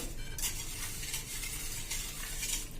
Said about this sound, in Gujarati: આ રીતે આપણે એકદમ સરસ મિક્સ કરી દેવાની છે ખાંડ